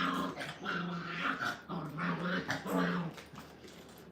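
A litter of kennel puppies plays close by, with repeated small growls, yips and whimpers in quick uneven bursts and no talking.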